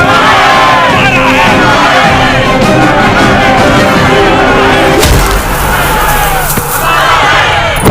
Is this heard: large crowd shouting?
yes